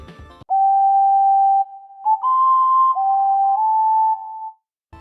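A synthesized ocarina made in the Soundtrap music software plays a short pure-toned melody of a few sustained, slightly bending notes, clean and close, with no talking.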